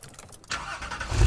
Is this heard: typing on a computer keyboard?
no